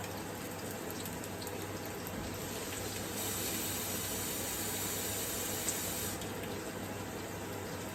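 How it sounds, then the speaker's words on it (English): Water pours steadily into a pot of cooking kale and okra, a continuous even splashing stream lasting the whole stretch, close and moderately loud with no talking. "Okay, and now I'm going to add a little bit of water."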